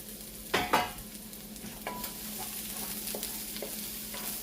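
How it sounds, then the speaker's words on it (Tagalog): Garlic sautéing in a pan for Filipino palabok, a steady soft sizzle with a few sharp stirring scrapes near the start, close and alone with no voices. "sauteing the bawang here"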